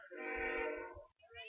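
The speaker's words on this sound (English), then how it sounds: "As you may hear the BNSF train in the background." A BNSF freight train near a softball ballpark sounds its horn, a sustained chord blaring for about a second, then a short second blast, distant and faint under low rumble.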